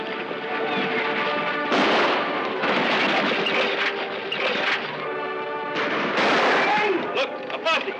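Shotgun blasts in an old Western radio drama scene with a posse closing in, two heavy booming bursts over a dense, noisy background of commotion, with voices shouting throughout.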